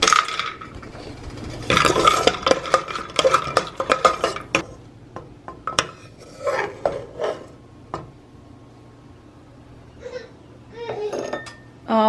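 Cashews stirred in a little ghee in a pan on a home stove, giving clustered metallic clinks and scraping of a spoon against the pan, loud near the start and thinning out into sparse taps and quieter stretches later.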